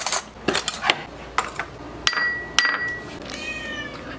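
A cat meows loudly and insistently at feeding time as wet food is served, mixed with sharp clinks and taps of dishes close by.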